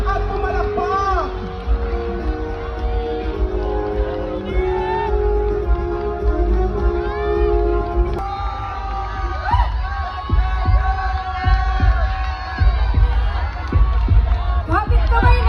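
A crowd cheers and shouts at a cultural night awards ceremony in the Philippines: a dense, continuous roar of many voices with rising yells and whoops, plus occasional louder bursts near the end.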